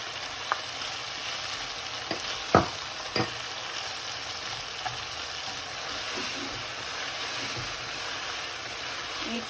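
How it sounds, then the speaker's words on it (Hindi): Onions fry in a pan of oil for chicken chow mein, a dense, even sizzle filling the whole stretch, with a few knocks and scrapes of stirring, near and without speech. "अब इसी में हम सब्जियां भी साथ इसी के फ्राई कर लेंगे। तो सबसे पहले मैं अनियन ऐड कर रही हूँ।"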